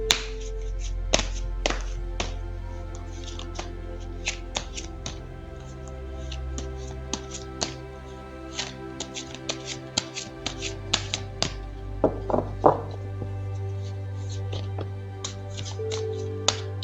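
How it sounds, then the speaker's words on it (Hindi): A deck of tarot cards being shuffled, with light rapid taps and flicks of cards close by over a steady low background hum, with no talk. "तो चलिए पहले ज़रा कार्ड्स को शफल कर लेते हैं।"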